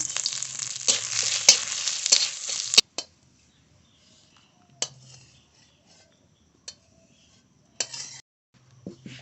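Dry red chilies and whole cumin hit hot oil with a loud, crackling sizzle and stirring clatter for a few seconds. A sharp clank cuts it off, and scattered utensil knocks follow in near silence.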